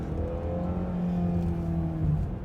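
A 2015 Ford Edge Titanium AWD accelerating, heard from inside: a steady engine drone climbs in pitch as it pulls, with a low rumble of road noise underneath and no talking.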